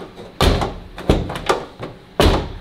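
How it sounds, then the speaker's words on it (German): A carbon-fiber car door shuts with a solid, deep thunk, followed by lighter latch clicks and a second firm close near the end; close and clear, no talking. "erinnert euch an die alten Türen und wie die Tür auf und zu geht"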